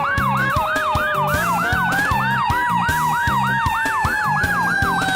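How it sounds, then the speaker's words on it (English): A fire truck siren wails in rapid repeating whoops, loud and close, layered with a pulsing horn-like tone underneath. "With bright flashing lights and loud sirens, it's exciting to watch a fire truck whiz past."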